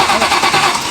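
A 700whp Terminator Cobra that won't start cranks over steadily, a dense, rapid churning of the starter and engine lasting about a second at close range with no voices.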